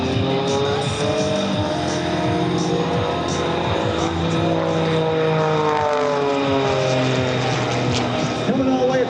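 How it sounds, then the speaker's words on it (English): Aerobatic propeller airplane flown by Aarron Deliu tumbling across the sky at an air show, its engine droning loudly and steadily with shifting pitch sweeps throughout. "watch this again as the aircraft begins to tumble across the sky"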